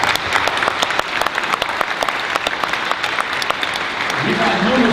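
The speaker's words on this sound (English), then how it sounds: "So we're going to applaud 25 more jobs." A room full of people at a city economic address applauds steadily, dense clapping throughout with a voice beginning to speak near the end.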